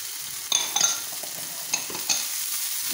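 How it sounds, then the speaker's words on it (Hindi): Cumin, curry leaves and black peppercorns fry in hot oil for beef nihari, giving a steady close sizzle broken by a few sharp spoon-against-pan scrapes as they are stirred. "इसको हम अच्छे से फ्राई करेंगे और लाइट गोल्डन होने देंगे।"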